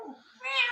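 A man imitates a cat, giving a short, nasal, rising meow that is close and fairly quiet, with no other sound around it.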